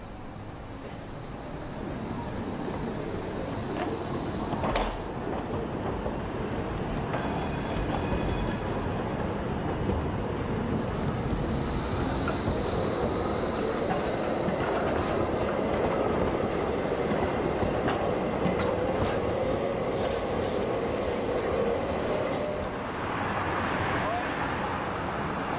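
Badener Bahn light rail train of the Wiener Lokalbahn, a tram-like vehicle running on tracks shared with the Vienna tram, rolling past with steady rumbling and rail clatter, rising noise and a brief squeal, under talk.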